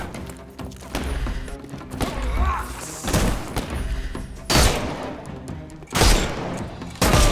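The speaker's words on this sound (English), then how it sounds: "Okay, I'm just shooting." Gunfire in a detective video game rings out in sharp, loud bursts and thuds spread irregularly across the stretch, several heavy shots standing out, with game sounds between them.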